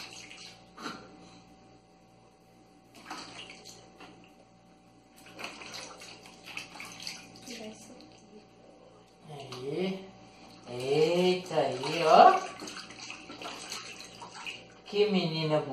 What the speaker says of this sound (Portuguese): Ela ama tomar um banho.